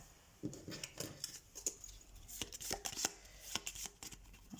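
A deck of tarot cards being cut and shuffled by hand, with a run of brisk, crisp card snaps and riffles that arrive in uneven bursts and sit close and fairly quiet, with no one talking over them.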